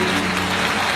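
A brief, dense burst of audience applause from a studio crowd, clapping loud and steady for a mother and her son.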